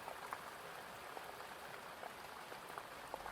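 Steady rain falling through the night, a constant soft hiss with scattered faint drip ticks, gentle and even throughout.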